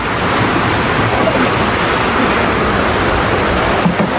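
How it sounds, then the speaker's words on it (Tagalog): Heavy rain pours steadily, a dense continuous roar of water close by with no pauses. "Grabe, lakas po ng ulan."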